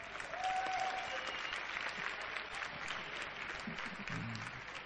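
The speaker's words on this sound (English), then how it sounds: "Let's give him a round of applause." Crowd applause at the DreamHack Winter 2009 Quake tournament grand final, a steady wash of clapping lasting several seconds at moderate level, with faint voices underneath.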